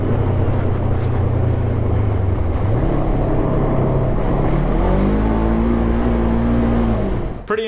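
Dirt bike riding captured by a helmet microphone with a furry wind muff: a loud, continuous engine roar close up, pitch rising and falling as the rider shifts and accelerates, with wind largely suppressed until the sound cuts off at the end.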